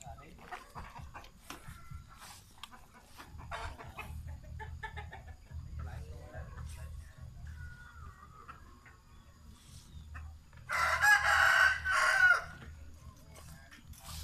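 Hens cluck throughout a breeding hen pen on a Cambodian farm near Kampong Thom, and a rooster crows loudly and close for about two seconds near the end. People talk quietly in the background.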